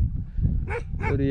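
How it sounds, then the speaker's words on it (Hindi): A dog barks somewhere near a cold desert campsite, with camels nearby, giving a couple of short yelping barks over low rumbling background noise while someone speaks close by. "जो भी भौंक रहा है।"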